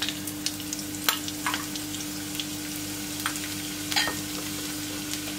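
Chopped garlic frying in hot cooking oil in a pan, a steady close sizzle over a constant low hum, broken by sharp clicks and scrapes of a utensil stirring.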